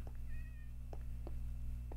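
A Minecraft cat meows faintly over a steady low background hum, with a few brief soft taps spread through, and no voices.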